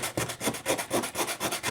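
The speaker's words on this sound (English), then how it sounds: "I'm going to try and tackle some of the rust with just a bit of sandpaper" Sandpaper rubbed by hand over rusty metal on a Renault Trafic van, a close, loud rasping scrape repeated in a steady back-and-forth rhythm of about a dozen strokes, with no talking.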